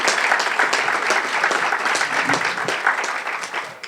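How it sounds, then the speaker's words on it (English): Sustained round of applause at a chamber of commerce luncheon, many hands clapping in a dense, even roar that holds steady before starting to taper near the end. "Please give Rebecca a round of applause for the effort she put in today."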